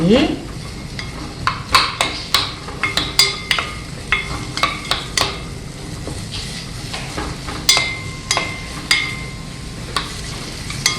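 Julienned radish and maesaengi seaweed stir-fry with sesame oil in a pan, with soft sizzling under repeated scraping and clinking of a utensil against the pan, close by.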